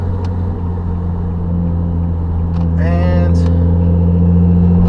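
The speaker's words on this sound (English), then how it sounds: "you can definitely hear that VQ rumble" A 2009 Nissan 370Z with automatic transmission idles, its VQ engine giving a steady low rumble and hum, close and loud throughout, while a voice briefly speaks over it.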